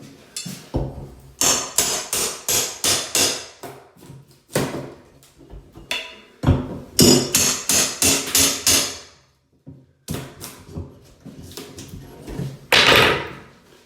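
Rapid bursts of loud metallic hammer blows on a greased crowbar against an interior door frame, struck in quick rhythmic series with short pauses between, close and sharp.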